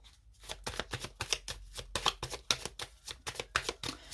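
Tarot cards handled and shuffled up close, a quick, uneven run of papery riffles and soft slaps, with no talking.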